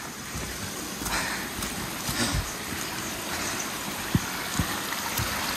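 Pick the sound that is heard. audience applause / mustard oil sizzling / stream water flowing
stream water flowing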